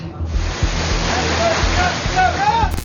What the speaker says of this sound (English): the Chinese are now deploying water cannons, firing it directly towards our boat